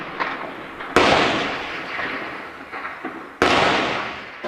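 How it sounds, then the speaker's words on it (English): Gunfire in a Syrian war zone cracks out in two loud, sharp reports a few seconds apart, each trailing off in a rumbling echo over a steady outdoor background. "They are shooting at everyone"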